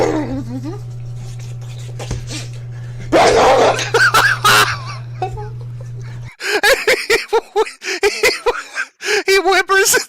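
A dog eating raw hot dogs, with wet gobbling noises and short yips and whimpers at close range, mixed with people talking and laughing.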